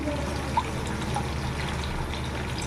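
Beaten egg poured from a bowl onto boiled eggplant pieces gives a soft, steady liquid trickle throughout, close and fairly quiet, with a small splash near the start and no talking.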